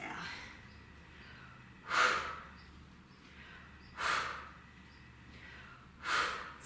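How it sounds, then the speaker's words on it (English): Squats during a yoga sculpt workout bring three quiet, evenly spaced breaths, each a soft airy rush about two seconds apart over faint background hiss. "inhale as you lower, exhale as you drive it up"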